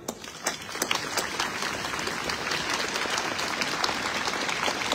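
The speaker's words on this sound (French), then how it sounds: "je vous demande de les applaudir" An audience at an outdoor armistice commemoration on 11 November applauds steadily, a broad, sustained wash of many hands clapping at moderate distance, with no voices standing out.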